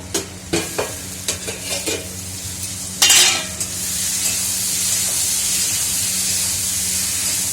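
Utensil scraping and stirring in a pan with a few sharp clanks, then a loud burst of sizzling settles into a steady frying hiss.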